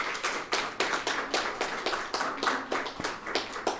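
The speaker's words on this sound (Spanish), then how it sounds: "Gracias por el aplauso." An audience claps and applauds at a spiritual health talk, with steady rhythmic hand claps at a moderate level and no speech over them.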